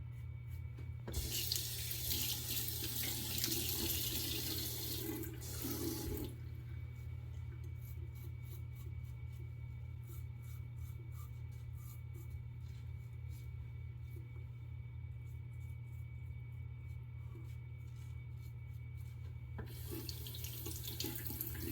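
Tap water runs steadily into a sink while a Holy Black SR71 slant safety razor is rinsed, a continuous close splashing flow that briefly eases mid-clip over a low steady hum, then surges again near the end.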